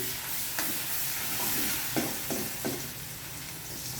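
Curry leaves, asafoetida, turmeric, red chillies and ginger-garlic paste temper in hot oil in a pan, a steady close sizzle with a few distinct stirring scrapes near the middle.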